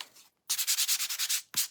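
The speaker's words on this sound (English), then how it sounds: "I'm going to take my sanding block, and this is a 320 grit, and I'm going to go over these" A sanding block with 320-grit sandpaper scrubs over a painted surface in a quick, even run of about ten rasping back-and-forth strokes, close and fairly loud, followed by one more stroke after a brief pause.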